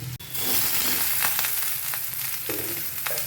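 Onion, taro stems, potato and ridge gourd fry in oil in a pan with bay leaf and dried chili, a continuous close sizzle with occasional stirring scrapes.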